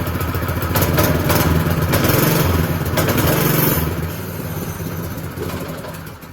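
A homemade minibike's small engine runs just after starting, a steady loud putter with slight revving rises and dips at close range, with no talk over it.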